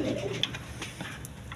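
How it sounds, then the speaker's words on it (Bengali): A pair of pigeons gives a soft, brief cooing murmur up close against a faint steady background hum. "এখানে এক পেয়ার কবুতর আছে"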